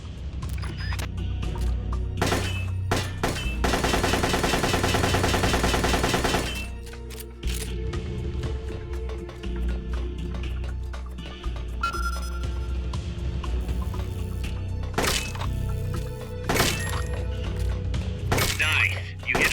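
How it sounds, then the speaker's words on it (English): Weapons are test-fired at targets in a kill house in Metal Gear Solid: Peace Walker, with sharp single shots scattered throughout and a dense, rapid automatic burst early on. "It's a good place to test fire new weapons."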